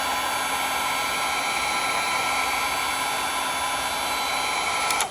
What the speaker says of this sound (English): And I've got my heat gun on setting high.